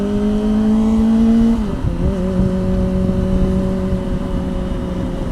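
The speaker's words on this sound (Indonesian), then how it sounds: "dalam berkendara pakai knalpot yang terlalu bacot itu bisa menimbulkan hal-hal yang tidak baik" Loud aftermarket motorcycle exhaust droning steadily while riding, with a strong low engine tone that drops in pitch around the two-second mark as revs change, then holds a sustained rumble.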